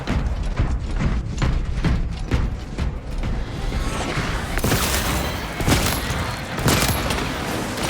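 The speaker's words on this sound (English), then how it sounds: "Reloading ammunition." Weapon reloading in Warhammer 40K Space Marine 2 during an Exfiltration operation: quick mechanical clacks and ratcheting sit amid loud, dense bursts of gunfire and heavy booms that continue throughout.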